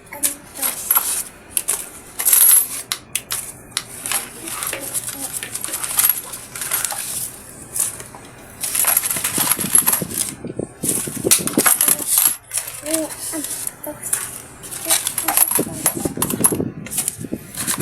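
Coins tumble and clink out of a savings container as it is emptied, a dense run of metallic rattles and chinks with brief pauses, close and fairly loud, with some low talk underneath.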